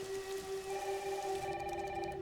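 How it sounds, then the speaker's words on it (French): Heavy rain in the Resident Evil Requiem video game, a steady close hiss of downpour under a sustained tonal hum, continuous throughout the short stretch. "Waouh, il pleut vraiment des cordes."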